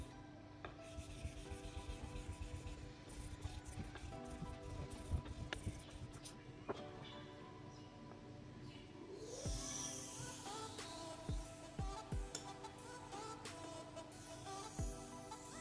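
Steel straight razor blade, a French Thiers-made Sisatol, honed by hand on a Japanese natural Mejiro whetstone of about 9000 grit with slurry, giving steady rhythmic rubbing and rasping strokes, close and moderately loud, with no talking.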